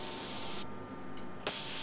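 Spray gun laying even wet coats of House of Kolor paint onto a car body after extensive bodywork, a steady close hiss of atomized spray that cuts off briefly, then returns in short bursts.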